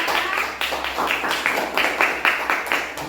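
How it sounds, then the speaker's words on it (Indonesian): Fourth-grade schoolchildren clap together for a classmate in a classroom after a prayer practice lesson, a dense, steady patter of many small hands close by, with faint voices mixed in. "Ayo tepuk tangan buat kawan kita"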